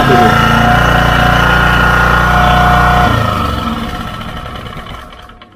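A new Ryu RG-1500 petrol generator runs with a steady loud engine drone, then is shut off and winds down over a few seconds to near silence.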